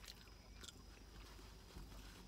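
Someone chews a crunchy Market Basket spring roll up close, with soft, irregular bites and crunches over about two seconds and no talking.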